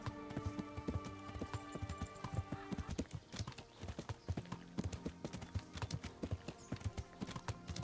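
A horse gallops in the video game Kingdom Come: Deliverance, hooves pounding in a fast, steady clip-clop rhythm that stays close and even throughout, with no talking over it.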